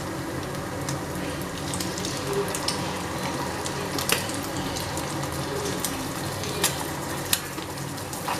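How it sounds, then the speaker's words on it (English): Salted oysters fry in hot oil in a pan for an omelette, giving a steady close crackling sizzle with a few sharper pops and no talking. "and to this I'll add in my oysters now"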